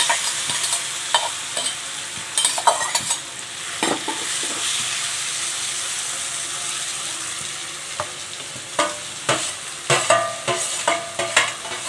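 Cinnamon, cloves and raw mango pieces sauté in hot ghee, a steady sizzle broken by repeated scraping stirs of a spoon in the pan, close and fairly loud.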